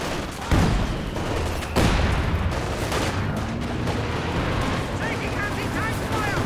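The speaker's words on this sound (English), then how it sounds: "Katyusha barrage." Katyusha rockets in Company of Heroes 2 rain down as a barrage of rushing blasts and rumbling detonations, two sharper impacts standing out, while a commentator talks over the din.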